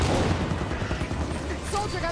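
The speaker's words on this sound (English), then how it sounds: "Turrets on and firing." Mounted turret firing in Halo 5: Guardians, a dense, rumbling burst of rapid gunfire with battle noise, voices faintly mixed in beneath.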